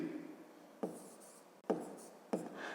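Numbers being written by hand with a pen or pencil on paper while working a 5th-grade math exercise, soft scratchy strokes broken into three short bursts of writing, faint and close.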